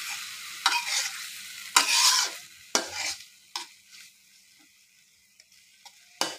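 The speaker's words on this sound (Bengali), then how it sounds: "দিয়ে দিচ্ছি আদা রসুন বাটা একসাথে।" Ginger garlic paste frying with meat in a pan, sharp bursts of sizzling with several distinct spoon stirs and scrapes, close and loud between quieter pauses, no voices.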